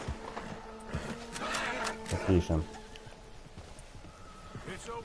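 Hooves of a wounded horse in Red Dead Redemption 2 thudding in an uneven clip-clop, mid-distance and moderately loud, with buzzing insects and a low whinny, while someone says a single word.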